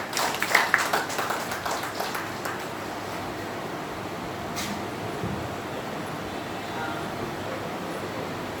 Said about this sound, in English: Huge round of applause for Sister Beena Datta.